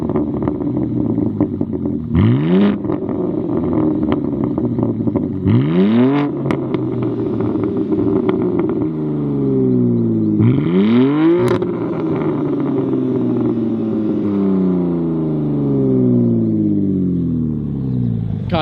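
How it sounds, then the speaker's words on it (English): A BMW G80 M3 with aftermarket downpipes revs hard in repeated bursts, roughly four sharp climbs that each fall away into a loud, rasping exhaust drone, close and with no voices over it. "so he's just gonna get some revs now."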